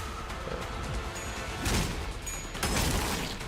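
Dense, noisy burst of attack effects from a character's skill in the video game Limbus Company, a wash of clashing impacts and crunchy hits with a couple of louder surges, mixed fairly low.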